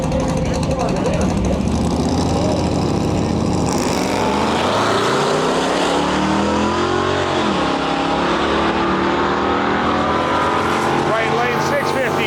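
Ford F-150 pickup truck racing down a drag strip at a drag-and-drive event, its engine roaring loudly and continuously and rising in pitch as it accelerates, with a voice talking over it.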